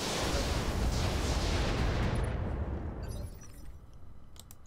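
Weapons fire in the RogueTech mod of the BattleTech mech game, using LK ammo: a loud, dense, roaring blast that fills the first few seconds and then fades out, with small crackles trailing behind.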